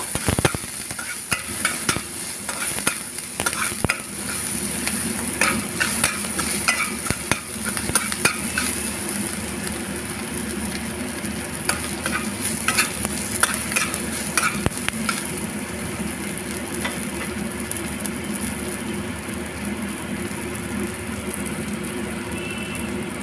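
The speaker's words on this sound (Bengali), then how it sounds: "তাতে অল্প পরিমাণে পেঁয়াজ রসুন দিয়ে ভেজে নেব" Onion and garlic frying in oil for arhar dal, with a steady crackling sizzle throughout and repeated scraping stir strokes, close and fairly loud, no talk.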